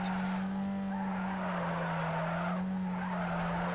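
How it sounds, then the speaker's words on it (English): Car tires squealing in a long held drift in the racing game Need for Speed Underground 2, a loud, continuous screech over a steady engine drone. "I'm gonna try and hold that drift"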